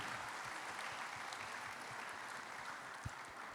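Church congregation at a Christmas service in Jakarta gives a round of applause, a soft, even spread of many hands clapping at a distance, continuous and fairly faint, with one sharper clap near the end.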